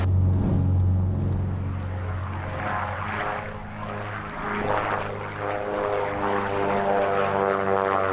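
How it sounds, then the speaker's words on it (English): Droning, throbbing engines of a twin-engine propeller aircraft climbing just after takeoff, heard loud and steady from inside the cabin with a rising, pulsing tone. "There's 80 knots. We're airborne. Okay, there's 95 knots. Wheels are going up."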